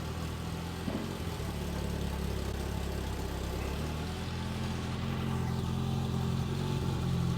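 A 1990 BMW E30 M3 Sport Evolution engine idles with a low, steady rumble, close by and even in tone throughout.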